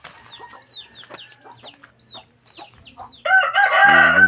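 Hens cluck in a rapid string of short calls, then a rooster crows loudly and close by, drowning out the rest.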